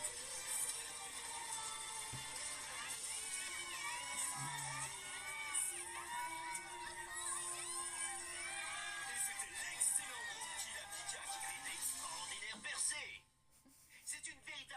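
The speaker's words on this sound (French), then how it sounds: "Oh la foule." A cartoon crowd from the anime Kilari cheers and shouts with excited children's voices, a lively blend of whoops under speech, before dropping off abruptly near the end.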